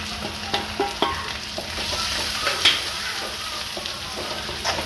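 Garlic, onion and cabbage frying in hot oil over full gas for Manchurian, giving a loud, close sizzle with a few sharp stirring clatters near the start.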